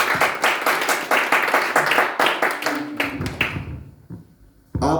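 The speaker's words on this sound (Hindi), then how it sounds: "Let's clap unto the Lord." A church congregation claps together in worship, dense rapid applause filling the room for about four seconds before fading out, with a brief burst returning at the end.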